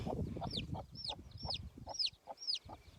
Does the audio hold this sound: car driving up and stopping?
no